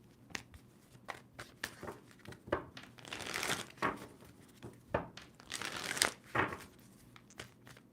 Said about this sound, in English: Two more shuffles for Taurus.